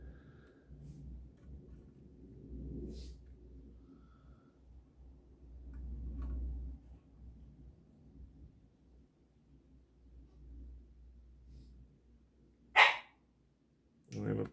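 A pet dog at a home repair bench gives two short, sharp barks near the end, loud against a quiet background of low rumble and faint shuffling.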